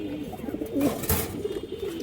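A pair of silver bagha khaki pigeons coos softly, a short low murmuring call rising briefly over a quiet background hum.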